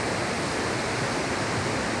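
Lafari waterfall on the Ren and Mahan rivers in Surajpur, Chhattisgarh, running with strong rainy-season flow: a steady, dense roar of falling water filling the whole clip with no voices.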